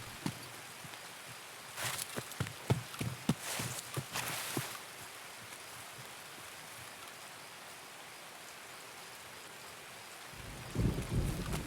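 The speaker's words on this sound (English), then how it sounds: "With the rain, I know it's hard to hear" Steady rainfall hisses throughout, with a cluster of sharp crackling bursts near the start like nearby thunder, and a low rumble rising at the end, in the video game Escape From Tarkov.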